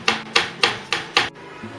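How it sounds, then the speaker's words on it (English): Chocolate shavings being lightly patted by hand onto the sides of an eggless Black Forest cake, five soft, evenly spaced dull pats close by, then quiet. "What I'm going to do is lightly pat it"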